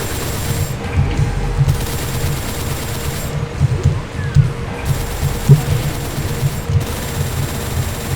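Rapid, repeated gunfire from dual-wielded weapons with infinite ammo in UZDoom, a dense, continuous rattle of shots with heavier booming hits mixed in, loud and sustained.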